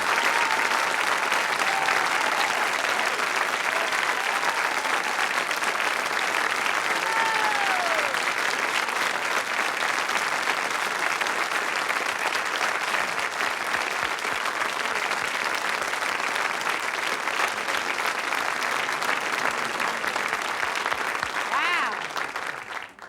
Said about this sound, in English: let's all stand up right now and applaud everyone in this room and ourselves with a standing ovation